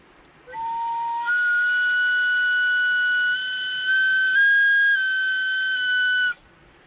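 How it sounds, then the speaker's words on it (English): A hard blast of air produces a sustained, loud whistle tone lasting about six seconds, its pitch stepping slightly upward partway through, with breathy hiss around it and no talking. "And then of course hard flow of air gets it like a whistle sound."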